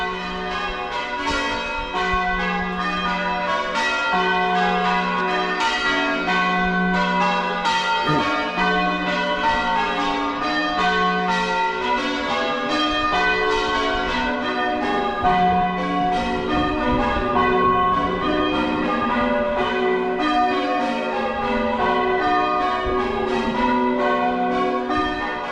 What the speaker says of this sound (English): Got the church bell ringers